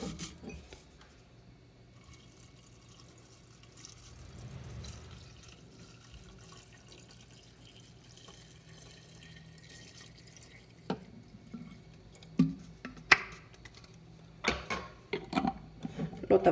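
Herbs pushed down into alcohol inside a jar: soft, wet squelches and scattered drips, quiet at first and then a cluster of sharper liquid clicks and knocks near the end, with no talking.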